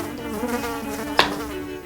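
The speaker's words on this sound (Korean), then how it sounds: "모세야, 정말 하나님 말씀대로 파리가 애굽 사람들 동네에만 생기고 이스라엘 동네에는 생기지 않았구나" Flies buzz in a steady, close, droning hum, a sound effect for the plague of flies on Egypt in a staged Bible play about Moses, with a brief sharp click near the end.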